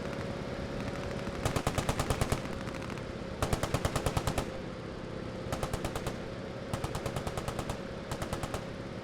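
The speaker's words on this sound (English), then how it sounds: "Heard a little bit of machine gun fire there." Machine guns fire in the WWII shooter Post Scriptum during a large realism battle: several rapid bursts of a second or so each, spaced apart and moderately distant, over a continuous low battlefield rumble.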